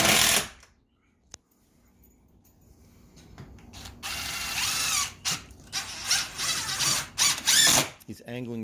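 A power driver sinks a screw into replacement window framing in bursts of whirring and ratcheting after a near-silent pause, close and fairly loud, with a sharp click early on.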